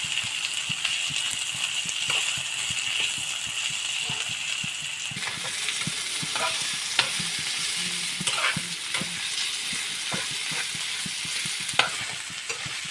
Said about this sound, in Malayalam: എണ്ണയ്ക്കകത്തിട്ട് നന്നായിട്ട് ഇളക്കി ഇളക്കി മെഴുക്കുരട്ടിയാക്കി എടുക്കാം